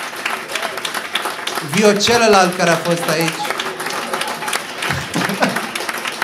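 Audience applause breaks out at a Romanian stand-up comedy crowd-work show, a broad wash of clapping that swells in the middle of the clip and runs under a comedian's amplified talking from start to end.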